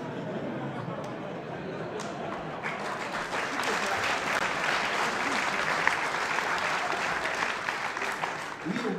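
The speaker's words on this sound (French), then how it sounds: "Oui, on peut l'applaudir, Manuel Valls." An audience at a comedy show breaks into applause that builds from scattered claps into sustained, full clapping lasting several seconds.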